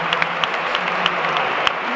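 Scattered applause from a football crowd at an Atletico Madrid vs Barcelona match: a steady, dense wash of clapping and crowd noise for about two seconds, with a few louder individual claps standing out.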